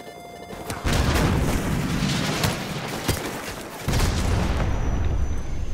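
A Stinger missile launched at a helicopter in Call of Duty Modern Warfare Remastered, heard as a loud booming blast and sustained roaring rush, with a sharp crack midway and a second heavy surge near the end.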